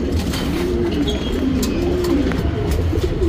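A Guldar pigeon coos in its loft, a close, soft, rolling call repeated over a continuous low background hum.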